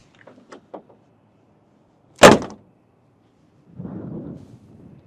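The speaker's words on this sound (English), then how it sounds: "Beautiful gull-wing doors." The heavy prototype gull-wing door of a Mercedes C111 closes with a single loud, sharp slam after a few light clicks, followed by a softer rustling shuffle.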